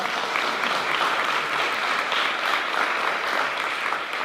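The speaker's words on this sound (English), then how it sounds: "That deserves a round of applause." Audience at a school board of education meeting applauding a high school valedictorian, sustained and fairly loud clapping that stays even throughout, with no talk over it.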